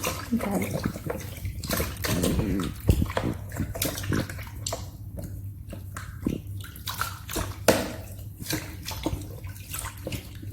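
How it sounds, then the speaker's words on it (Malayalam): Clean water with squeezed lime is splashed and sloshed over feet during a home pedicure, with irregular pouring and dripping bursts close by and a voice talking over the washing. "ഇനി നല്ല ശുദ്ധമായ വെള്ളം എടുത്തിട്ട് കുറച്ചൊരു ലൈം പിഴിഞ്ഞൊഴിക്കായിരിക്കും. എന്നിട്ട് നന്നായിട്ട് കഴുകുക."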